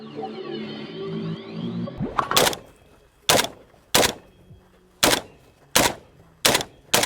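Single shots from a Palmetto State Armory GF3 AK47 rifle outdoors, six or seven loud cracks spaced roughly a second apart, each with a short echoing tail, following an opening stretch of musical intro.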